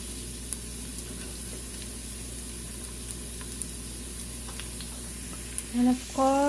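Garlic sizzling in hot oil in a pan while cooking beef kaldereta, a steady close frying hiss with a few faint clicks, then brief louder stirring or scraping near the end.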